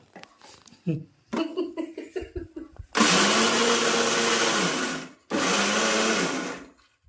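A kitchen mixer grinder whirs loudly through a laddu mixture in two long bursts with a short gap between them. People talk and chuckle just before the motor starts.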